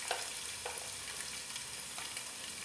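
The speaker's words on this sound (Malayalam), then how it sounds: "ഇനി ഇതൊന്ന് നന്നായിട്ട് വഴറ്റിയെടുക്കാം" Sliced onion and crushed green chili sautéing in a pan, giving a steady soft sizzle with a few faint stirring scrapes at intervals, fairly quiet and with no voices.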